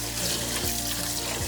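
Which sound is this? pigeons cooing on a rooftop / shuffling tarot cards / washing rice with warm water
washing rice with warm water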